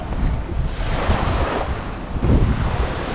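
Strong, steady wind gusting across a sailing boat at sea near the Bahamas, a continuous roaring rush with waves washing beneath, loud and close.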